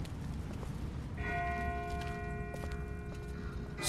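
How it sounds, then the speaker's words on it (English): A distant bell in The Walking Dead game rings out, a sustained clear tone that lingers and fades, with soft clip-clopping steps and ambient noise beneath and no speech. "That's not the same bell as before. This one's further off."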